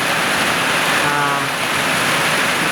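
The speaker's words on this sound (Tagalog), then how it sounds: "bigla lang dumilim ang panahon at saka biglang umulan" Heavy rain pouring down suddenly after the sky darkens, a dense steady hiss of drops on surfaces, loud and close with no break across the whole stretch.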